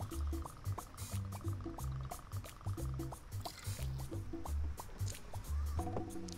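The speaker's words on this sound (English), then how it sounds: "We're gonna use 2 ounces of the Driftless Glen." Driftless Glen whiskey pours into a glass or jigger for a cocktail, a close gurgling trickle with small clinks and drips, nearby bar sounds underneath.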